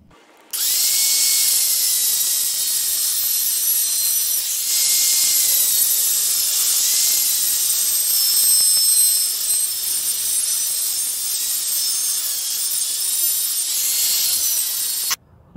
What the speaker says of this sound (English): Okay, so I finished cutting off the lid